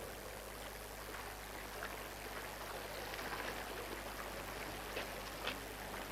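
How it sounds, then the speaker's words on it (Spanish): Wastewater runs through a city sewer collector tunnel, a steady, broad rushing and gurgling flow with faint splashes and trickles, even and continuous with no talk. "por aquí van las aguas residuales, las aguas sucias"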